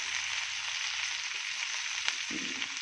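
Finely chopped okra fries in hot oil in a pan, a steady close hiss that holds evenly throughout, with no voices.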